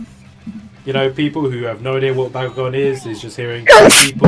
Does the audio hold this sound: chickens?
no